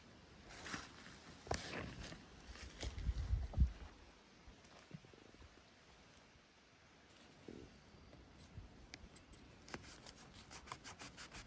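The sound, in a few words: cutting red reishi mushroom with scissors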